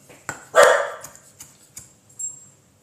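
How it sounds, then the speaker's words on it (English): A dog barks in a home kitchen during cooking: a loud single bark, then several quieter, shorter yips and barks spaced irregularly over a few seconds, close by with no talk. "I think he's barking at himself."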